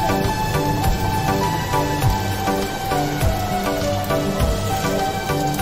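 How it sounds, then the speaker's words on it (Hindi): Steady, dense patter of rain falling heavily, with constant drops striking nearby surfaces and no voices. "बहुत ज़्यादा बारिश हो रही है और बड़ी मोटी मोटी कनियाँ पड़ रही हैं।"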